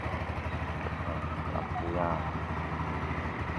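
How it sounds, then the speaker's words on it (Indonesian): A Viar motor tricycle engine idles smoothly at a steady, even rumble close by, running continuously beneath someone talking over it. "ini mesinnya masih bagus, ini masih bagus, masih halus bunyinya"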